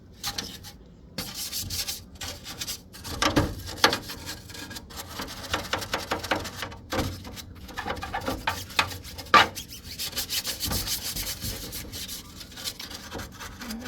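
Scrubbing dirty mini split air conditioner parts clean by hand, a steady close rubbing and brushing with irregular strokes that run throughout without talk.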